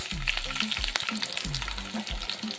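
Red chillies, curry leaves and mustard seeds fry in hot oil as a tempering for a drumstick-leaf dish, a close, continuous sizzle dotted with small crackles and pops.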